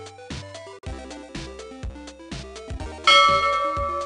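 A bright notification bell chime rings out alone over a repeating tonal jingle, with a clear ding arriving near the end and ringing on.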